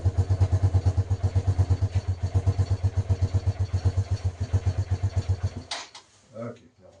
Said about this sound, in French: démarrage sans starter pour commencer